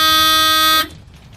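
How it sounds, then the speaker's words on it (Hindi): A vehicle horn blares to clear a motorcycle parked in the road: one loud, sustained honk of under a second that cuts off abruptly into quiet background. "तो हॉर्न मारो और हटाओ इन्हें साइड"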